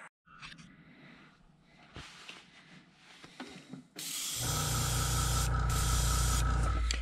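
Airbrush blasting out the last of the leftover paint after coating custom crankbait fishing lures, a loud steady hiss that cuts in midway and holds, preceded by quieter handling clatter and small clicks.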